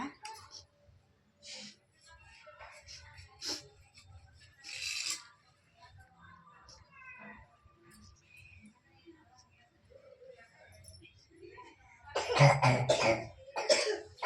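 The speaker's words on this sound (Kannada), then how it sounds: "ಎಲ್ಲ ಹೆಂಗ್ ಕೆಮ್ತಾ ಇದಾರಲ್ಲ" Several people cough in a room, with scattered single coughs early on and a loud, clustered burst of coughing near the end, mixed with talking and soft rubbing noises.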